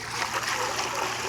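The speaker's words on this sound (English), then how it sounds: "I'm gonna pour it back into this pot" Golden-brown natural dye liquid is poured back into a pot, making a continuous splashing trickle at close range with no talk.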